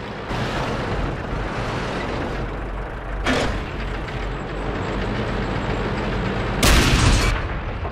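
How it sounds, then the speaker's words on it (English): Heavy booms land over a continuous rumbling tank battle din in World of Tanks, two distinct blasts with the later one louder and longer, like an artillery barrage. "More Arty Barrage"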